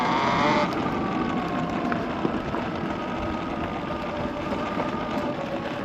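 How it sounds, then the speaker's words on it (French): A Talaria Sting R 4000 electric motorbike rides along with a steady roar of tyres on the road and a faint motor whine, all under constant wind rush. "on entend les pneumatiques"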